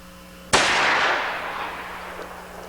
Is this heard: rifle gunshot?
yes